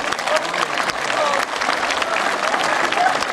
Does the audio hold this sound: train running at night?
no